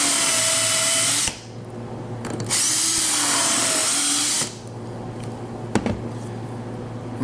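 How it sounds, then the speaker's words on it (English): A power drill bores holes through a cam jig into a wooden shelf, two loud sustained bursts of high whine with a pause between, then quieter clicks and handling as the drill stops. "just using the drill, I can just drill down each of the holes"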